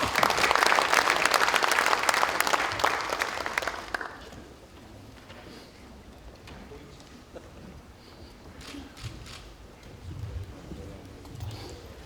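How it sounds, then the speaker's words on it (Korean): Applause fills a Democratic Party lawmakers' workshop hall as party leader Lee Hae-chan is welcomed, a dense burst of clapping for about four seconds that then drops away to quiet room noise with faint stirring. "큰 박수로 맞아주시기 바랍니다"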